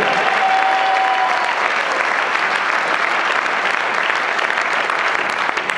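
Sustained loud applause from a crowd at a political meeting in La Brède, steady clapping filling the whole stretch with no pause.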